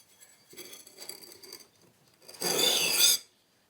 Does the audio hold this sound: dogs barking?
no